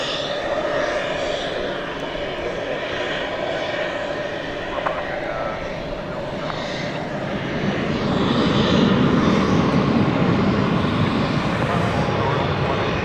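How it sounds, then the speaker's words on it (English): An Airbus A321 airliner on a Denver-bound flight at Dallas Fort Worth airport at night, a steady jet engine roar that grows louder and fuller toward the end, with a voice talking faintly underneath. "It's an Airbus A321."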